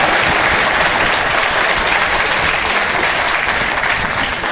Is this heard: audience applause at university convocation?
yes